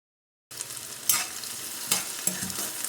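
Cabbage and small-cut potato pieces frying in a pan for cabbage aloo fry, a sudden steady sizzle with a few louder stirring scrapes spaced through it, no talk.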